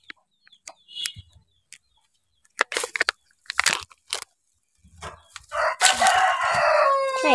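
Chickens cluck in short scattered bursts, then a rooster crows loudly and close at the end, with rustling and handling noises in a rural setting.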